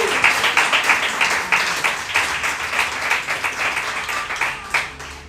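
A church congregation claps for the Lord during a prayer service, the steady applause loud and close, with rhythmic swells of many hands and a faint voice beneath.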